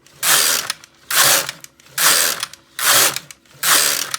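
A Brother KX 350 knitting machine carriage is pushed back and forth across the needle bed in five evenly spaced passes, each a loud rattling, clicking sweep, with brief pauses between them and no talking.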